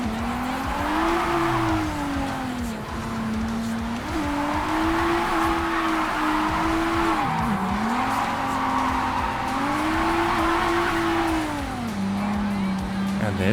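A car drives and drifts through a canyon race in a cow-themed drifting game, its engine droning steadily with rising and falling pitch through the whole stretch, some tire noise underneath, and a voice talking over it.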